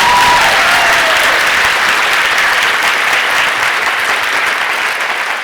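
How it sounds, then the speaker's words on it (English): An audience at a book talk breaks into steady, dense applause that stays loud for the whole stretch, many hands clapping together in a hall without a pause. "can we have a round of applause?"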